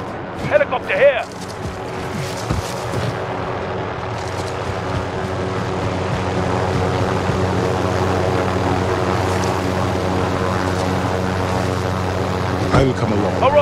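A helicopter in the Call of Duty Warzone video game drones with a steady engine and rotor hum that holds evenly after a brief opening, while a voice speaks over it.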